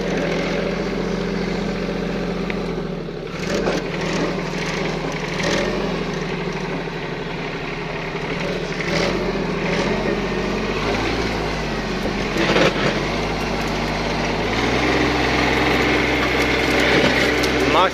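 A tractor runs a Mateng NEFL 95 mulcher over rough, hilly grass. The engine drones loudly and steadily throughout, with crackling and chopping as the mulcher works.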